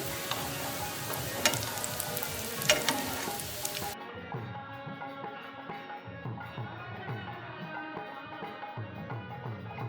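Close, crackling sizzle of sesame vadas frying in hot ghee, with sharp pops early on before the sound thins to a quieter, steadier bubbling.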